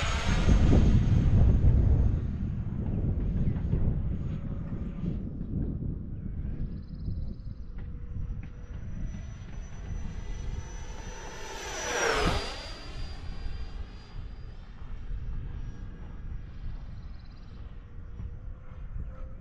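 An FMS 70mm RC jet makes a high-speed pass: a steady distant whine builds, then sweeps sharply past with a loud Doppler drop about two-thirds through, and a fading hum trails off amid outdoor background noise.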